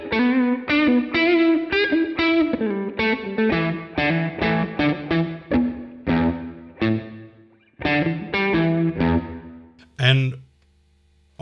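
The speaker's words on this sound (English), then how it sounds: "on the hardware itself, you can go from spring reverb switch to plate" An electric guitar run through a NUX Trident pedal's spring and plate reverb plays a sequence of strummed chords and picked notes, each trailing a short shimmering wash before a final sharp click.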